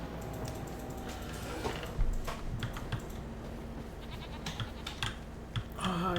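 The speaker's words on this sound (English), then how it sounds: "Hi sheeps and goats." Quiet keyboard typing clicks continue throughout, with a few faint sheep or goat bleats from Farming Simulator 25 mixed in near the end.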